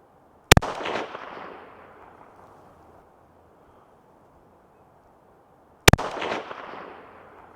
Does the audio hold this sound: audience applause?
no